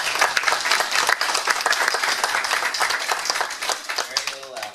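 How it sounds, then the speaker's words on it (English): Crowd applause at a Lake Worth city commission meeting, a fairly light scatter of individual claps with distinct hand strikes, continuing throughout at moderate loudness. "so if we could get a round of applause for the utility"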